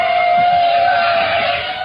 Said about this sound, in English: if an attack is coming, then you will hear the hum of drones in the sky